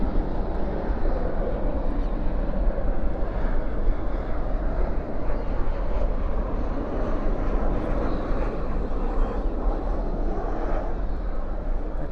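An American Airlines jet departing DFW airport at night, a steady, loud broadband engine roar that holds evenly throughout without a break, no voices over it.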